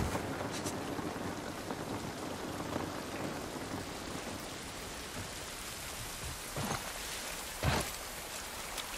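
Steady rainfall in The Last of Us Remake on PS5 hisses throughout, with scattered louder drops and a couple of brief heavier bursts late on.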